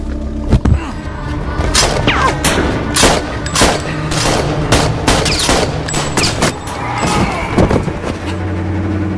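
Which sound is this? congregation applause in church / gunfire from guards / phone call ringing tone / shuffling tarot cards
gunfire from guards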